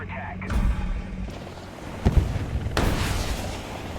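In War Thunder, a missile strikes an obstruction with a sudden heavy blast, followed by rumbling booms and a second sharp burst. Each impact is loud and close, and no one speaks.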